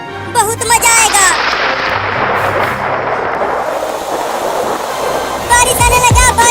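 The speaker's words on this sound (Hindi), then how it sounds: "सुना चिंटू, बादल गरजने लगा, अब जरूर बारिश आएगा।" Thunder rolls into a heavy downpour, a loud, dense roar of rain sustained for several seconds, with children's voices heard before and after it.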